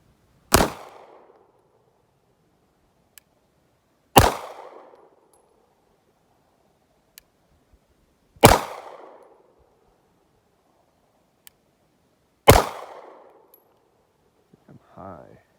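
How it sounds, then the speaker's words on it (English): Small Bersa pocket pistol firing suppressor loads: four sharp loud shots spaced about four seconds apart, each with a short ringing decay, with faint clinks between them. "Now for the little Bursa, it's damn near a pocket pistol."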